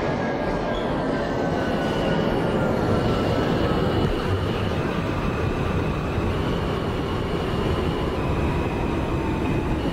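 A simulated R160A subway train on the R line in the OpenBVE game runs steadily with a dense rumble and rattle, and a faint high whine slowly falls in pitch as it travels.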